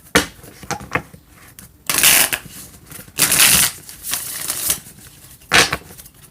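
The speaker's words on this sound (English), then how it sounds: "Let me shuffle these." Several bursts of cards being shuffled and riffled, crisp papery rustles and snaps in quick clusters with short pauses, close up.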